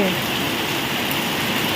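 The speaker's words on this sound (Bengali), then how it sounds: "বন্ধু কত বৃষ্টি পড়ছে" Rain pours steadily as a dense, even hiss, loud and close with no breaks.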